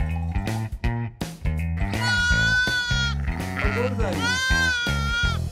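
A lamb bleats several times with wavering, high cries, close and loud, while people talk nearby and over it.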